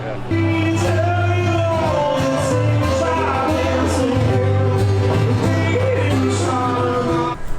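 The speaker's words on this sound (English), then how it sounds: "I think they're playing live music right now" Loud live music fills a shop in Charlotte, North Carolina, with steady low bass notes and layered sustained tones, playing continuously for the whole stretch, with faint voices mixed in.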